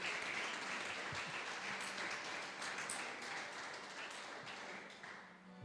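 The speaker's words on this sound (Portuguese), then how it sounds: "Se você crê de verdade, aplauda de verdade mesmo." A congregation at a Sunday church service claps in a sustained, full round of applause that thins and softens slightly near the end.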